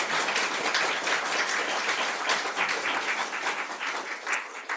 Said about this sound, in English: Final round of applause would be wonderful.